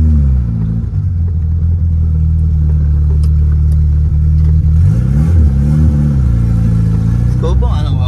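A VW Gol Turbo engine fires up and idles with a deep, close rumble, then revs briefly with a rising, clattering surge before settling again.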